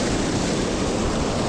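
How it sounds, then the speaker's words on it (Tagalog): Sea waves washing up a shore at a fishing spot, a loud, steady rush of surf with wind noise and no talk. "Naabot pa ng alon."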